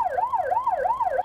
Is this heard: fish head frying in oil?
no